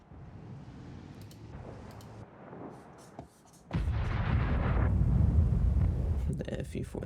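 A tank cannon fires in World of Tanks: a sudden loud blast near the middle bursts into a sustained roaring rumble, preceded by engine drone and softer distant booms, with someone talking over it.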